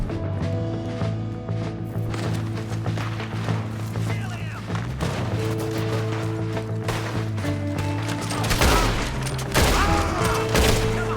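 A Red Dead Redemption 2 gunfire shootout during a Valentine bar fight: repeated gunshots crack in bursts over a droning score, with horse hooves and a loud cluster of shots near the end.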